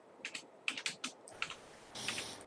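Rapid bursts of computer keyboard typing, close and clear, with uneven clusters of key clicks and a brief rushed flurry near the end, no voices.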